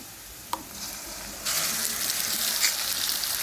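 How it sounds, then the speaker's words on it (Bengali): Onion and mustard paste fries in oil. A quiet hiss and one sharp clink come first, then the sizzle jumps to a loud, steady crackle that continues to the end. "তেল দিব পেঁয়াজটা ভাজা হয়ে গেলে সরিষাগুলো দিয়ে দিব"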